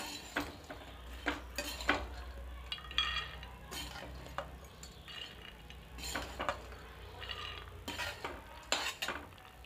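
Roasted dry fruits are scraped and moved from a pan onto a separate plate, with a series of close metallic clinks and spoon scrapes at irregular intervals over a quiet kitchen background.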